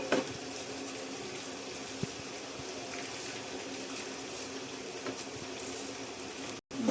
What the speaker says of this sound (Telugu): ఇప్పుడు మనం బాయిల్ అయ్యే వాటర్లో రైస్ అనేది నెమ్మదిగా చాలా నెమ్మదిగా గాబరైతే ఏమి లేదు నెమ్మదిగా ఇలాగే వేయాలి